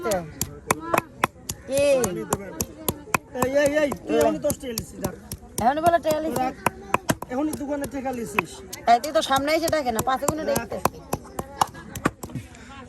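Food for a spice paste is chopped on a riverbank for an eggplant and chicken dish, with rapid sharp knife strikes in an irregular, close, loud rhythm, under steady conversation between two men.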